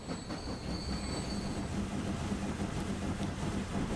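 Trains running on rails in the rail-transport game Transport Fever 2, a steady continuous rumble of railcars with thin high wheel squeals near the start, close and alone with no talk.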